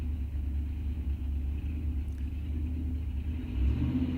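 Steady low engine rumble from a Camaro drag car at a bracket-racing raceway, idling and churning continuously with a slight swell near the end, no voices over it.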